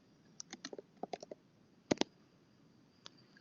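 A computer keyboard is typed on with scattered, fairly close key clicks, a quick burst of several taps, a pause, then a couple of sharper strikes and a lone click, set in a quiet room.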